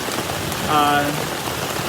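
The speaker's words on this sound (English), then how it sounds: "I'm in my tent, and it is raining cats and dogs." Heavy rain drums steadily on a tent close by, a dense, even patter with a brief faint tone in the middle.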